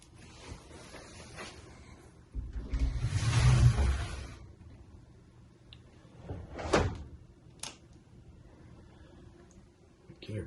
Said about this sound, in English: Should probably open up the door first.